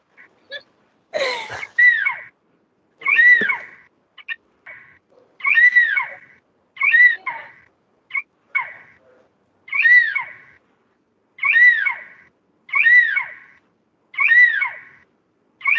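An eagle call plays during a sound-guessing game at a school pet event: repeated sharp, high, ringing cries in a long series of separate bursts, loud and clear against silence, with no talk over them.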